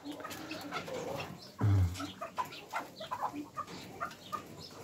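Calls from mandarin ducks, small grey birds kept in an enclosure, with a loud low burst near the middle and busy clucking and chirping around it.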